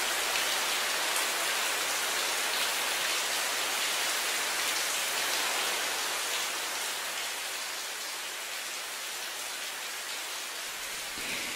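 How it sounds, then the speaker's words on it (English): Light rain falls as a steady, dense hiss of drops on a hard surface, constant and even throughout with no voices. "During light or medium rain conditions"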